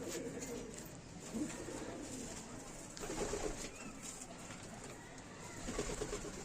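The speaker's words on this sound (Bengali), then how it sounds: "আমি দেখাচ্ছি পায়রা।" Low, throaty coos from Teddy pigeons repeat in soft rolling phrases over a dense, continuous background of bird chatter and hiss.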